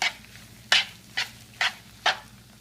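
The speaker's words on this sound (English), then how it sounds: "stir that up in there" Hash brown casserole mixture stirred in a bowl, with five sharp scraping strokes spaced about half a second apart over a low steady background, close and fairly loud.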